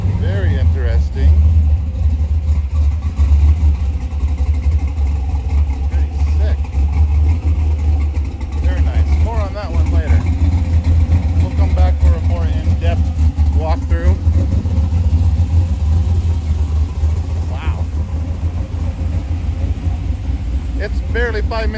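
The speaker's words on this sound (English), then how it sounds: "there are hot rods and cool cars farther than I can see" Hot rods and other classic cars rolling into a Cars and Coffee show in Riverside, a steady low engine rumble and idle throughout with occasional revs, while people talk over the noise.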